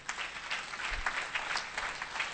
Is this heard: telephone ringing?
no